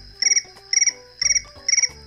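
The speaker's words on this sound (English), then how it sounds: "Those are crickets. Crickets." Crickets chirping at nightfall in four evenly spaced bursts, each a quick rapid trill, close and clear with no talking.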